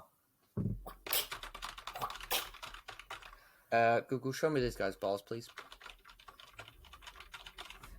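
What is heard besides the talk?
typing on a computer keyboard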